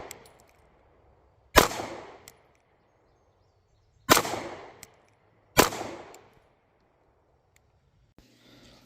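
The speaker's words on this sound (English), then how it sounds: "let me pop a few more rounds in here" Three sharp pistol shots fired at a target on a range, one near 1.5 seconds and a close pair after 4 seconds, each loud and cracking with a short decaying tail, separated by quiet gaps.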